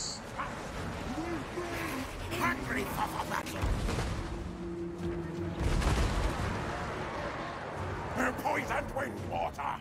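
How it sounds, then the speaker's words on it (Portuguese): Stone thrower artillery fires in the Total War: Warhammer 3 battle, with heavy rumbling impacts around a busy battlefield mix of yelping creatures, clashing noise and a voice talking throughout. "Estou tomando tiro do lança-pedras."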